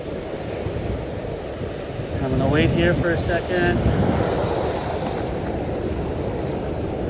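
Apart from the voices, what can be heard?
ocean waves breaking on the beach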